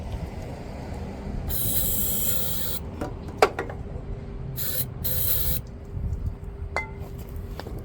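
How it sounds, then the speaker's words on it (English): Several short hissing bursts of aerosol starting fluid sprayed into an engine, close by, with a few light clinks and taps in between. "Let's give it one more spray."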